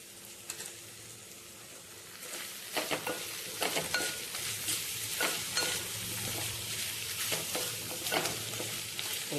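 Vegetable curry being stir-fried in a thick-bottomed pan, with a soft steady sizzle and repeated scraping strokes of a spatula every second or so, close and fairly quiet.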